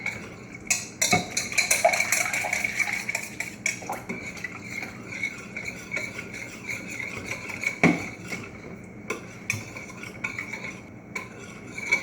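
Coconut cream pie filling being stirred in a pot as it boils: a spoon scrapes and clinks against the metal in an irregular run of close, bright taps and rasps that go on throughout, with no talking.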